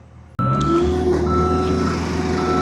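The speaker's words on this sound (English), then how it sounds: "now the operator is retracting the axles" A large boom lift (manlift) drives to retract its axles. Its engine suddenly roars up close and a steady warning alarm tone rings over the rumble, with no talking.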